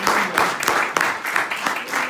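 A church congregation applauds during a sermon, with dense, rhythmic clapping from many hands rising and falling in even pulses for a couple of seconds.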